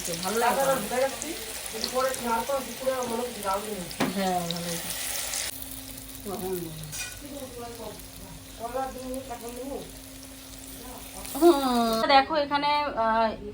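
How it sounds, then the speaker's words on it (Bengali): Pumpkin seeds fry in a pan with a continuous crackling sizzle, close by, heard under someone talking steadily over it. "কুমড়ার বীজ ভাজা হলো"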